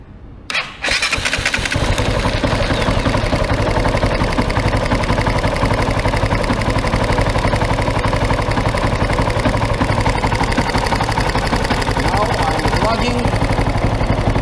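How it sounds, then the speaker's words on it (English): A Kove 450 motorcycle engine cranks and catches after a brief start, then settles into a loud, steady idle that runs on continuously, close by. "We can start the engine with only one fuel tank."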